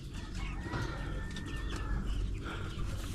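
Brown chickens gathered together in a coop make low clucks and soft coos nearby, with a thin whistling tone and background rustle.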